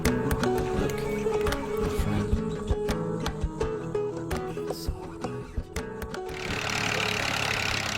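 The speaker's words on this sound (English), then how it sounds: "The tractor is stuck." A tractor pulling a trailer sits stuck in a sandy field, its engine giving a steady low droning hum with scattered clicks and knocks, fairly faint, ending in a broader rushing noise.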